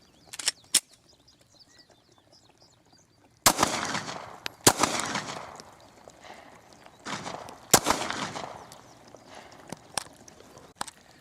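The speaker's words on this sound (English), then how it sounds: "Now we're going to be shooting the Glock 43 chambered in 9mm." Glock 43 pistol chambered in 9mm fired at targets on a range, a handful of sharp, loud shots spaced irregularly, some with ringing echo tails, with quiet gaps between them.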